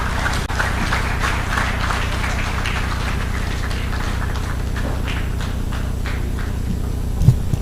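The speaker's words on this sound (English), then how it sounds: "Please, another round of applause for Dr." Sustained, dense applause from a conference audience at the Nigerian Economic Society annual conference, steady and fairly loud throughout, with a low hum beneath and a brief bump near the end.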